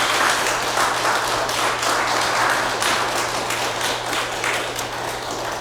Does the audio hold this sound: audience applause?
yes